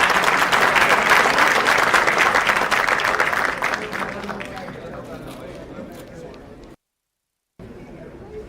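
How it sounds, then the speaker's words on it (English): Audience applause at an international pharmaceutical research conference, a loud burst of clapping from a crowd that gradually thins and fades, then a short silence. "Please give a big round of applause."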